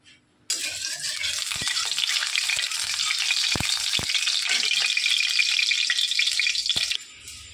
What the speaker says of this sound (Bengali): এদিকে আমি ভাজাটা বসিয়ে দিই